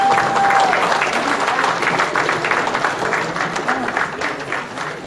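An audience at an anniversary gala applauds a scholarship recipient's announcement with sustained, dense clapping from a crowd, steady and fairly loud, fading a little toward the end.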